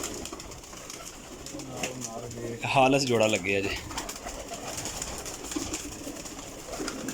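Pigeons in a high-flying pigeon breeding setup coo in low, throaty, repeated bursts, loudest for about a second midway, under someone talking throughout.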